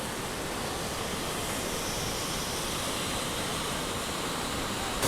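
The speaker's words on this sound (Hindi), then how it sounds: "तो इसमें काफ़ी अच्छा पानी है, देखो आप, ये वाटरफॉल काफ़ी बड़ा है।" A large hill-station waterfall with strong flow gives off a steady, dense hiss of rushing water, continuous and fairly distant, with no voices.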